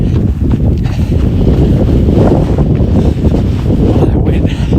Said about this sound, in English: It's got to be gusting at 30, 35.